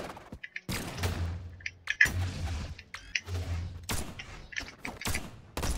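Gunfire in the Brawlhalla fighting game, with bursts of sharp shots and impacts in irregular clusters, mixed with clicks and brief booms at moderate loudness.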